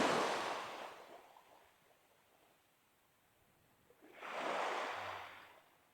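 Sea waves rolling in on the shore, two soft washes of surf swelling and fading a few seconds apart, fairly faint, with a quiet lull between them and no voices.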